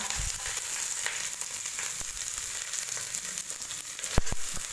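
Onions frying in a pan, giving a bright, hissing sizzle that stays steady and close throughout, with scattered crackles and a sharp clink near the end.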